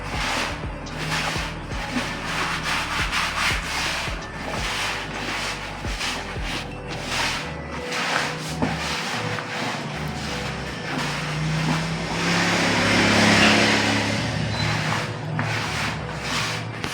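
A homemade laundry detergent mixture, still hot, is stirred and scraped steadily in a container, giving a continuous rubbing, sloshing texture that swells louder near the end.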